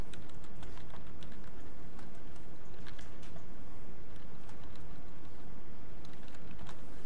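Rapid keystrokes clatter on a computer keyboard as a value is typed into an Excel worksheet. The tapping is steady and close, with irregular clicks over a constant background hiss.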